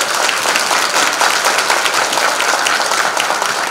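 An audience at a lecture event claps for the interpreter, producing a dense, even stretch of applause throughout, fairly loud and unbroken.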